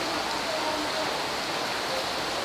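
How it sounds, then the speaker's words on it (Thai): Heavy rain pours down steadily outside a vaccination site in Thailand, a dense, constant hiss of water on surfaces filling the whole stretch without pause. "ฝนตกอย่างหนักเลยครับผม"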